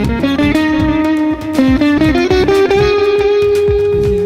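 Electric guitar fitted with a sitar bridge, played through effects with reverb: a buzzing, droning sitar-like tone with plucked notes and sliding pitch, loud and close, sustained throughout.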